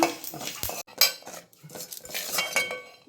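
A spoon clinks and scrapes against a pan as spices such as coriander, pepper, cumin, mustard and fenugreek are stirred while they roast in a little oil, in close, irregular metallic strokes with no talking.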